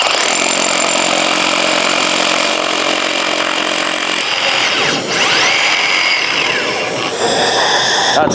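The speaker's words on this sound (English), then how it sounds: "This is our inch and 9/16 rotary hammer." A 1-7/8 inch rotary hammer drills into concrete with a dust vacuum attachment running, a loud continuous grinding roar that drops briefly and then resumes, heard on its own without talk.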